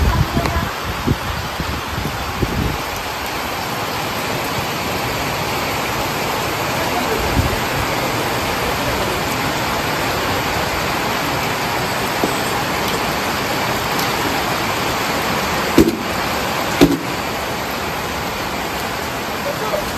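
Heavy rain roars steadily and densely over farmland for the whole stretch, a constant loud wash of noise with a few brief knocks near the end.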